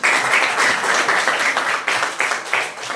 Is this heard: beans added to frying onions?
no